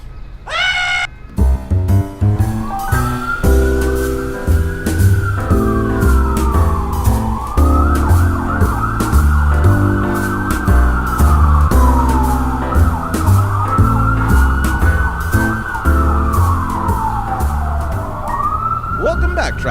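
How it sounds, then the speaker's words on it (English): Police car sirens from local police vehicles in New Orleans, loud and close, with a steady wailing tone sweeping up and down over a rumbling engine and street noise. "the sounds you are hearing are emanating from vehicles of local police department."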